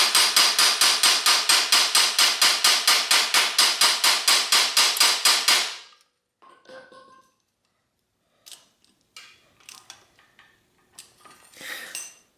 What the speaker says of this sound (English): repeat this process again until when you're tapping in the pin that the nut doesn't come loose